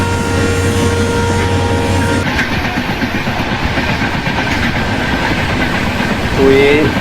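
Superfast express train in Indian Train Simulator crossing on the opposite track near Ghaziabad: loud continuous rumbling rail noise with rhythmic clatter, a steady engine hum that drops out partway, and a brief whistle-like tone near the end.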